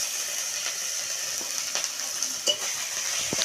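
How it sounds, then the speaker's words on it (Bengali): Garlic paste sizzles softly in a tempering on an earthen clay stove, with a few scattered clicks and scrapes of stirring over a steady, close frying hiss. "ফোড়নের মধ্যে আমি রসুনটাকে খুব ভালো করে নাড়াচাড়া করে ভেজে দিচ্ছি"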